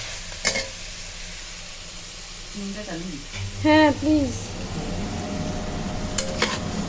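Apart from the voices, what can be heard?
mutton frying dry with spices in pan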